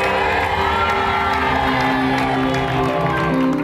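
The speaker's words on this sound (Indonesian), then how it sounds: "Tepuk tangan untuk Miss Challenge" On an Indonesian dating game show, a studio audience claps and cheers in a loud, dense swell over music for a few seconds.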